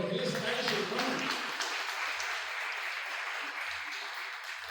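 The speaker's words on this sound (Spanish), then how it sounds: "Dale un aplauso al Señor." A church congregation applauds, dense clapping that begins loud with a voice over it and gradually tapers while continuing.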